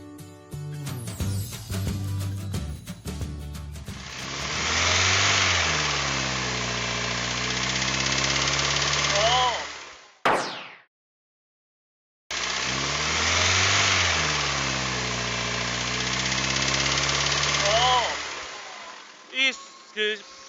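A Hyundai YF Sonata LPi engine idles and revs steadily with a repetitive metallic knocking from worn pistons, broken by a short silence midway; faint voices near the start.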